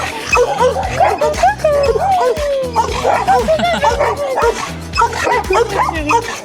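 A shelter dog barks in quick yips and whimpers and whines at close range, over steady background noise, with people talking underneath.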